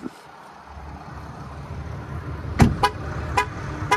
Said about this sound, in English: the vehicle will actually sound the horn a few times